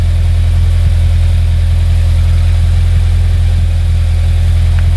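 A 2015-or-later Subaru WRX fitted with a Cobb titanium exhaust runs steadily at idle, a deep, continuous low rumble that holds loud and unbroken throughout, with no voices.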